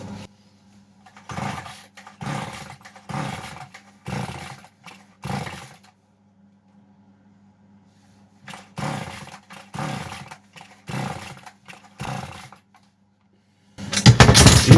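A Chinese petrol chainsaw after a carburetor adjustment sputters and grunts roughly in repeated short bursts about a second apart, pausing for several seconds before more uneven coughing pulses and a louder final roar.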